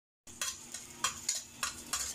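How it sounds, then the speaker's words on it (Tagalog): Ingredients being sautéed in a pan for red lugaw, a few quick scraping stir strokes over a soft sizzle, close and fairly quiet, with no talking. "Igisa na natin."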